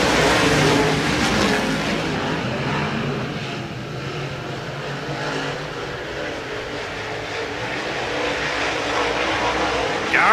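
Modified race cars of the American Racer Modified Series roar around the oval at Route 66 Motor Speedway, a loud, sustained blend of engines that swells and fades slightly as the pack passes.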